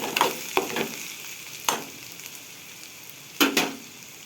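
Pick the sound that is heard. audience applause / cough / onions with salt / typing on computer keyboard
onions with salt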